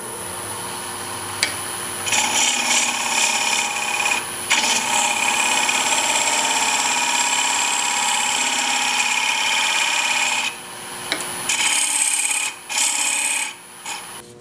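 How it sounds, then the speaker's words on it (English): A wood-turning gouge hollows out the inside of a wooden castle box on a lathe, giving a loud, steady scraping rasp that runs almost without a break, with a few short pauses near the end. "So I'm going to just do a little bit of work with this gouge here, hollow this out."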